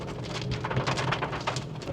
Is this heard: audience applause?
no